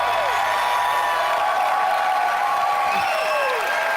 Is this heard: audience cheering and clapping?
yes